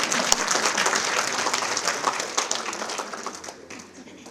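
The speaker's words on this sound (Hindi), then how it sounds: "भाई ताली बजाना तो अच्छे से बजाना" A large audience at a women's dialogue event applauds an address by a chief minister. Full, crowded clapping runs steadily before tapering off over the last second.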